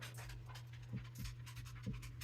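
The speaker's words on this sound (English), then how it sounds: "Probably heard my dog in the background." A dog pants nearby in a quiet room, a rapid, steady rhythm of soft breaths with a low hum behind it and no talking.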